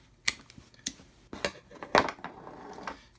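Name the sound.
scissors cutting a strip off a drink koozie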